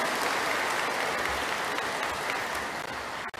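An audience at a Buddhist family's sermon gathering claps in sustained applause, a dense, even crowd sound that tapers off at the very end.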